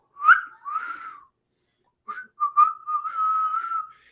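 A person whistles clear, close tones in two phrases: a few short rising notes, a pause of about a second, then a couple of quick chirps leading into a long sustained note.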